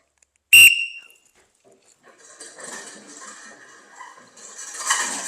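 A sharp, loud coach's whistle blast opens a barricading drill, a single short shrill tone, followed by scraping and shuffling of people moving heavy objects in a room.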